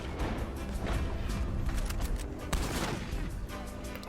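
Rapid gunfire from an online shooter game set in a camp, dense overlapping shots and crashes filling the whole stretch at steady loudness.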